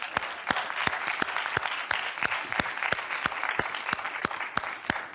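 An audience at a virtual summit claps for itself: steady mid-distance applause with regular, prominent individual claps punctuating the crowd's continuous clapping.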